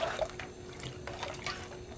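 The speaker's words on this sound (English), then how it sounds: "I'm going to allow this to boil." Split peas boil in a pot on the stove, giving soft, steady bubbling and gentle liquid churning at low volume with no talking.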